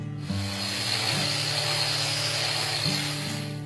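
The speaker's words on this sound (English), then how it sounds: "Now it is time to do the final sanding on the handle with the random orbit sander" A random orbit sander doing final sanding on a wooden bow handle, a steady continuous whirring hiss with a low motor hum, close and even throughout.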